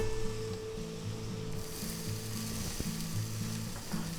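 Egg-dipped bread frying in a pan gives a steady, fairly loud sizzle, broken by a brief knock as a slice goes down, with a low rhythmic mechanical hum from the stove or fan behind.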